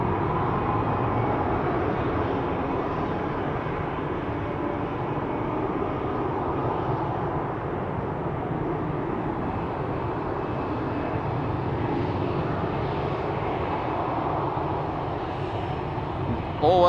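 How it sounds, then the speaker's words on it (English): A KLM Boeing 737-800 departs Amsterdam Schiphol, its engines a steady, broad roar that holds level throughout, with a brief louder burst at the very end. "KLM flight 1579 will be leaving for Lisbon. 737-800 PHBGC."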